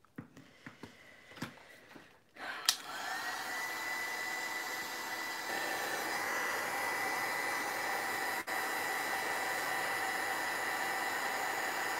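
After a few close handling taps and clicks, a heat tool switches on and blows a steady, loud whooshing hum to dry a glued, mica-powdered toy horse, running without a break to the end.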